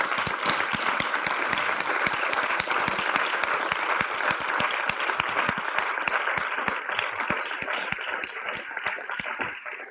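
Steady audience applause fills a lecture hall after a talk by astrophysicist Heino Falcke in Bern, many hands clapping continuously with individual claps popping out, fading slightly toward the end.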